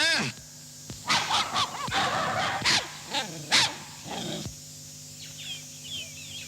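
A dog barks in a house setting, a run of sharp repeated barks clustered in the first half, loud and close, with some howl-like tones, then fading to quieter yips.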